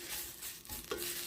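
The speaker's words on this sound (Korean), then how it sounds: "요걸 이제 들기름에 볶아줘요." Dried pollack, soaked until moist, stir-frying in about three spoonfuls of perilla oil over medium heat in a pan, a steady close sizzle with a brief stirring scrape.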